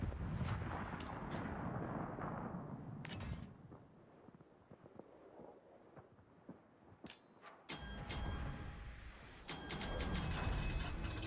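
Warship guns firing in the naval battle game World of Warships: a few heavy booming salvos and sharp cracks, some rolling away into quieter gaps, with a dense burst of fire near the end and no talk.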